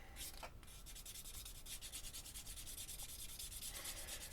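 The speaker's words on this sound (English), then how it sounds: "what that's going to do is round off and smooth off those edges on that piece of leather" Sandpaper rubbing along the edges of a leather piece for a ferro rod holder, a continuous close, dry scratching with rapid, even back-and-forth strokes.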